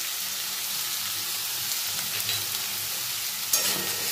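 Taro and potatoes coated in ginger-chilli paste, salt and turmeric being stirred in a hot pan, giving a continuous close sizzling hiss with faint scraping and one brief knock near the end.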